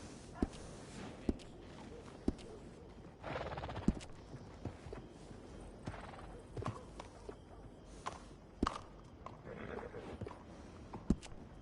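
Horse hooves clip-clop in irregular thuds in Red Dead Redemption 2, with a soft whinny and sharp clicks over quiet ambience; faint game voices occasionally.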